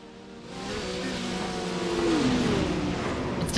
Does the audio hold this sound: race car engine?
yes